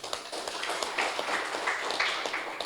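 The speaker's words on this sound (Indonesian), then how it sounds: "Tepuk tangan untuk NU." Applause from an audience at an anniversary gathering of an Islamic organization, heard as dense, steady clapping at moderate loudness throughout, with no talking over it.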